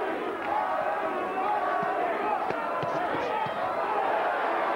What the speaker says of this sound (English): Crowd trying to pick Arturo up.